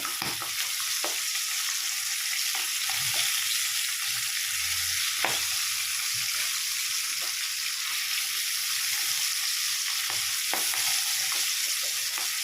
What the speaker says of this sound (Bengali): একইভাবে আমি খুব অল্প সময়ে মাছগুলোকে ভেজে নিচ্ছি।